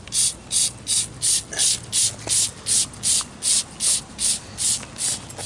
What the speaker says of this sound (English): Spray it on there. Spray it up underneath there.